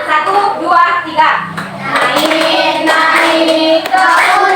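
Children in a combined second- and third-grade classroom clap their hands along as they sing a song together, rhythmic claps mixed with many young voices singing and an adult voice.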